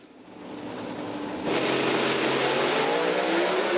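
A Pro Stock drag race car launches into a wheel stand, its engine roar swelling and then jumping to a loud, rising, sustained howl as it pulls away.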